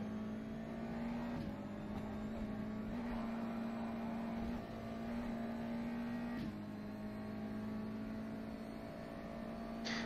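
A USF 2000 race car, a Mazda-powered open-wheeler, runs at Indianapolis in rFactor 2, its engine droning steadily close up with brief dips and rises as gears shift, alone without talk.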